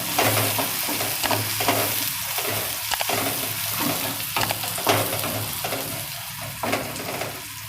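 Onion and tomato mixture sizzles and fries in a pan while a spoon stirs it in repeated scraping strokes, a steady close sizzle running underneath with no talking.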